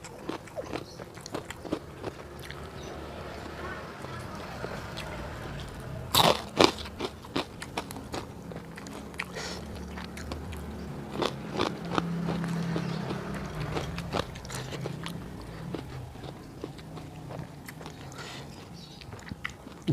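Soft, wet chewing and occasional crunchy bites of eggplant up close, with a few sharper clicks and no talking.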